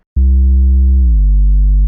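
A synthesizer plays a loud, sustained pure tone with a few soft harmonics. It starts abruptly and holds steady, then glides slightly lower in pitch partway through before continuing alone.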